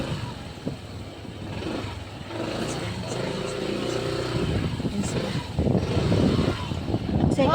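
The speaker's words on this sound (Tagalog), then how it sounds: "Ayun na sila. Pasok na yung motor mo." A motorcycle arrives, its engine growing steadily louder and closer, with people talking over the approaching motor.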